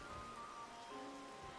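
Rain falls steadily in ARK: Survival Evolved on the Aberration map, a continuous close hiss of drops pattering on surfaces with no break.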